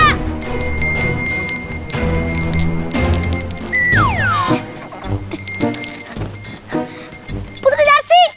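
Bright bell tones ring out repeatedly amid cartoonish sound effects and sliding tones, with voices speaking over parts of it.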